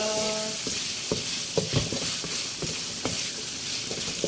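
Chicken hotdog and pork strips sautéing in a pan, a steady bright sizzle and fry crackle with repeated scraping and clinking stirring strokes, close and clear, no talking.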